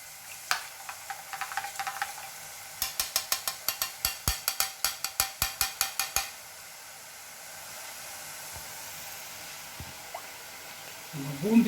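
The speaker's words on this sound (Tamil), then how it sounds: "துளிகளாக சூடு எண்ணெயில் கொட்டிட்டு இருக்கு" Boondi batter of gram flour pressed through a ladle into hot oil, a quick, even series of sharp taps and sizzling pops lasting a few seconds, then a quieter low hiss of frying.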